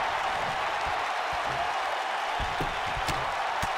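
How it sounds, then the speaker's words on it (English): Wrestling crowd at a live hardcore show cheering steadily in a dense, continuous roar, with a few sharper claps and shouts popping out of the broad wash of noise. "The crowd is loving it."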